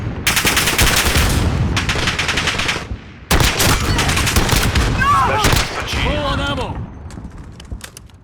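Heavy semi-automatic fire from the Rytec AMR anti-materiel rifle in Call of Duty Modern Warfare, loud dense booming shots in two long stretches with a brief gap between, a voice talking over much of it.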